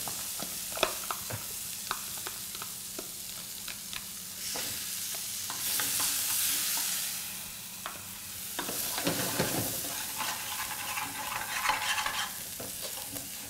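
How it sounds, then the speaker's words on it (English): A spoon stirs and scrapes yellow lentils cooking and sticking in a pan, producing repeated soft scraping strokes over a gentle sizzle, close up and fairly quiet, with a few louder swishing passes and no speech. "While you're cooking, you'll see that it's sticking down the pan. Don't worry, scrape it."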